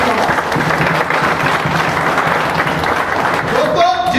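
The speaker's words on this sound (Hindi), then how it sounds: "एक बार जोरदार आप सभी के लिए ताली बजाओ" An audience at a motivational leadership talk breaks into loud, sustained applause, a dense wash of clapping with voices mixed in near the end.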